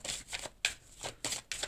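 A deck of cards being shuffled and a card drawn, with soft riffling and flicking bursts in an uneven rhythm, close and quiet with no talking.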